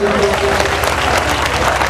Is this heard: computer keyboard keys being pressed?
no